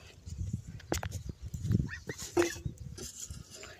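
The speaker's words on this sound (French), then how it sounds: "Hey, India, c'est la chienne de mon voisin. Allez, c'est une berger allemande." A female German Shepherd, a neighbour's dog, gives short low barks and whimpering noises close by, broken up by scuffling and handling sounds.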